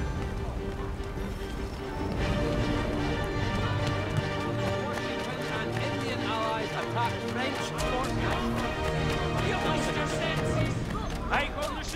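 Horse hooves clip-clop at a steady running rhythm in Assassin's Creed III, riding under game music and ambient noise, with no talk over them.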